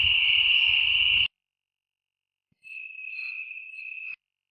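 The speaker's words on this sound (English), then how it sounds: "I kind of like the crickets." Crickets chirp in a steady, high-pitched trill, one loud stretch followed by silence, then a fainter, thinner stretch.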